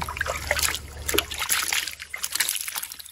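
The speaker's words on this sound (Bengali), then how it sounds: "এই পুকুরের মধ্যে আমরা এই যে মাছগুলো ছেড়ে দিচ্ছি আজকে" Freshly caught fish are released into a large village pond, producing uneven splashes, sloshing and dribbling water close by, with bursts of splashing that thin out toward the end.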